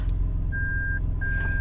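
Reverse buzzer of a 2002 Toyota Land Cruiser Prado, a steady electronic tone sounding in two long beeps over a low engine idle rumble.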